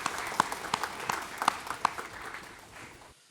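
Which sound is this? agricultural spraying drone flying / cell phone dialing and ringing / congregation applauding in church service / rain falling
congregation applauding in church service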